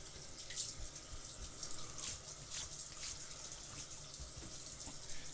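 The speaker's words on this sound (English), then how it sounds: "All right, so let me rinse that off." A steady stream of tap water runs over a Merkur 34C safety razor during a wet shave, continuous splashing and gurgling in a sink with faint drips, no talking.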